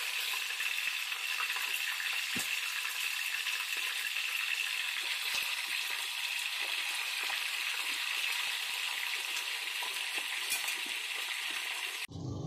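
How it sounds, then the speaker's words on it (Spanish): Chicken wings frying in hot oil for a spicy wing recipe, a steady, dense sizzle and crackle that runs evenly and loudly throughout, cutting off abruptly at the very end. "vamos a echar el pollo a freír"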